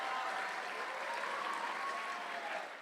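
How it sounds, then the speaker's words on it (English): A seated audience gives itself a round of applause, steady dense clapping with a crowd murmur that holds evenly and begins to fade just at the end. "So give yourselves a round of applause"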